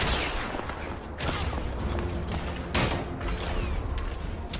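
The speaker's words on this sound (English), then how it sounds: "Lay down suppressive fire!" Suppressive gunfire in the video game The Order 1886 crackles in loud bursts, with sharp volleys near the start and the middle against a rumbling, mechanical battle background.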